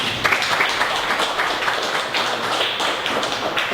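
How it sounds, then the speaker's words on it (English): An audience's dense applause for a presenter at a tech meetup, a steady wash of many hands clapping at close range with no break for the full length. "So I'd like you to give a round of applause to Mike."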